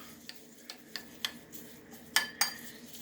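Moringa chimichurri sauce with lime being mixed in a bowl, a handful of light clinks and taps from a utensil against the bowl, sparse and close, growing sharper toward the end.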